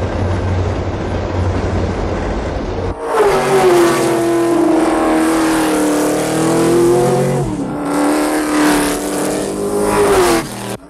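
A car drives past in a stereo demonstration film, its engine note loud and close, swelling as it approaches and then sweeping away, with a strong sustained tone that bends in pitch.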